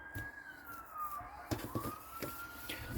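Outside an apartment beside the Mons ring road, an ambulance siren wails faintly as it passes, its falling and rising tone heard through the room among scattered knocks and rustles.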